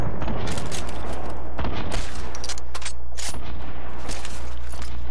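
Rapid, loud hand cannon gunfire in a first-person shooter video game, with several sharp shots and booming reports in quick succession over a constant low rumble of game noise.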